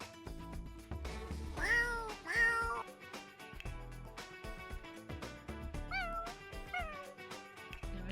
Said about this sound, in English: She has a scratchy meow, I think.